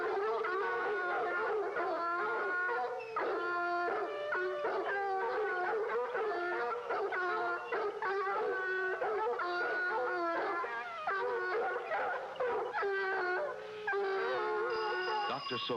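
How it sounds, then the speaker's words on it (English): Dogs howl and bark at night in a long, continuous chorus of wavering, drawn-out howls broken by short yips, loud and close throughout. "imagined he heard barking dogs late at night and screamed"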